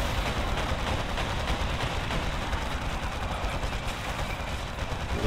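Continuous dense rapid autocannon fire in a Warhammer 40,000 battle, a loud unbroken roar of shots lasting the whole stretch with no voices.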